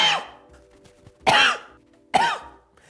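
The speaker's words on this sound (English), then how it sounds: "I've got a cough induced by hay fever." Three separate hay-fever coughs, each a sharp harsh burst spaced about a second apart, close and fairly loud with quiet in between.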